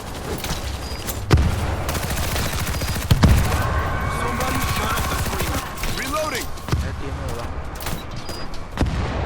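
Rapid gunfire in the video game World War Z crackles continuously, with a couple of heavier booming blasts, while a person talks over the action.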